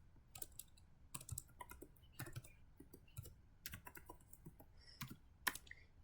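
Keys clatter on a computer keyboard in short bursts as a command is typed during a MySQL setup for a WordPress install, quiet, close and alone.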